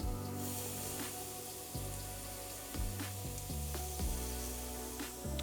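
Salmon kabobs cook on a hot grill, a soft steady sizzle beneath sharp clacks and thumps as the skewers are flipped over one by one, close up with no speech.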